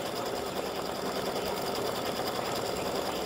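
An embroidery sewing machine stitching a design onto fabric at about 600 stitches per minute, a fast steady mechanical whirring chatter, loud and close without pause.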